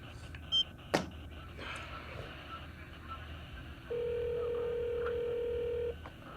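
A phone line gives a steady electronic tone lasting about two seconds, heard after a couple of short sharp clicks. The sound is alone, with a faint room hum underneath.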